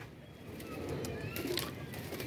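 Several pigeons, part of a group of trained high-flyer birds let out after days shut in, coo and call faintly over an outdoor background, with soft wing movement and a steady ambient hiss.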